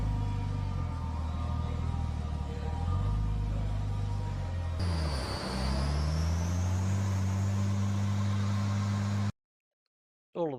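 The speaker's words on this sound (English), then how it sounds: "The slightly angled rear muffler looks great, and it sounds a lot better too." A Nissan Skyline ER34 GT-t's tuned exhaust through an angled rear muffler drones steadily, then rises in pitch as it revs and accelerates, loud and close, ending abruptly.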